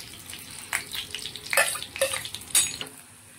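Coriander and cumin seeds frying in hot oil in a pan while making radish palya, a steady sizzle with a few sharper crackling bursts, close and alone without talk.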